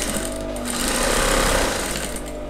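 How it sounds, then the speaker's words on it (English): Sewing machine running steadily as it stitches straight down the edge of an Ankara fabric strip, a close, loud, continuous mechanical whir with no speech. "on the sewing machine you're just going to sew it straight down"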